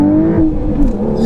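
A modified Porsche 911 992.2 revs hard in first gear, its engine note climbing steadily and staying loud and close for the whole burst, with no talk over it.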